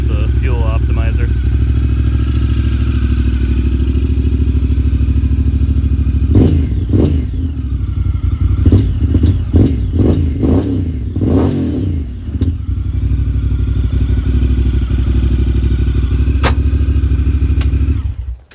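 A Honda Talon UTV fitted with an HMF full dual exhaust and fuel optimizer idles with a loud, steady low rumble, then blips through a run of sharp revs in the middle before settling back to idle.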